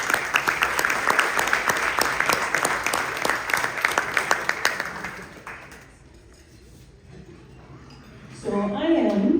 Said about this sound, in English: just a round of applause for our military family